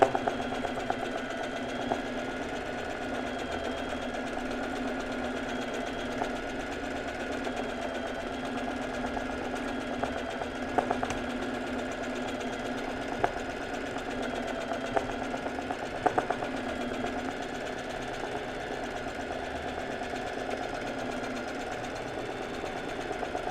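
A sewing machine running continuously for embroidery with straight stitch only, its steady mechanical hum and rapid needle chatter close and even throughout with no talking.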